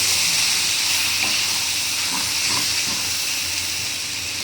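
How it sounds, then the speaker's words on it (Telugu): Oil-soaked tempering spices for a flattened-rice (poha) dish sizzle in a hot pan, giving a steady, close, loud hiss throughout with no talking. "ఆయిల్లో నానబెట్టుకున్న పోపుని ఇలా పోపులో వేసేసుకోవాలి."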